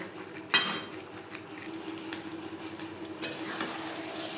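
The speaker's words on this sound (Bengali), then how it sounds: "চিকেনের সাথে আলু বেশ ভালো করে কষিয়ে নেব" Fried potatoes are stir-fried with chicken in a spiced curry base, making a steady sizzle with a sharp utensil clank against the pan early on and louder stirring scrapes toward the end.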